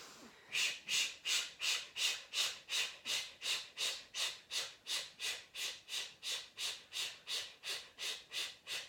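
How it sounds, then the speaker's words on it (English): Deep breathing exercise: a person takes big inhales and forceful exhales in a steady, even rhythm, about twenty close, clear breaths one after another with no talking. "Big inhale. Big hot exhale."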